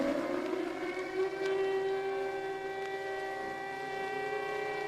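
An air raid siren wails steadily over Prague in February 1945, heard on an old Czech radio broadcast, its long sustained tone rising slightly and droning with a hissy, distant broadcast quality.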